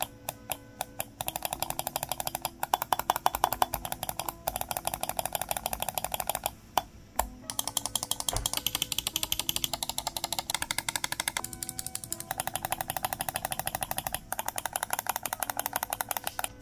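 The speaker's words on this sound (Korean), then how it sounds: "보통의 그냥 마우스 클릭음에 철판 튀듯이 약간 팅팅거리는 소리가 섞여서 들리는데요" Rapid, crisp clicks from a WLMouse Ying 8K carbon fiber wireless gaming mouse, close and fairly loud, with a thin springy metallic ping in each press. They run in dense bursts with a brief pause near the middle.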